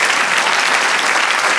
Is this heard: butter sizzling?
no